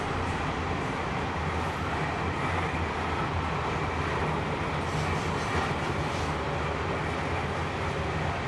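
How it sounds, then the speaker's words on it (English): A Genesee & Wyoming Australia coal train rolls through Hunter Valley coal country in New South Wales, a loud, continuous rumble of wagons close by with steady wheel noise and no pauses. "a Genesee Wyoming Australia coal train can be seen passing through"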